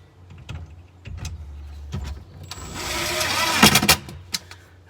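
A screw is driven while kitchen cabinets are assembled, with a power driver whirring briefly after scattered knocks and handling thumps, close by, with people talking around it.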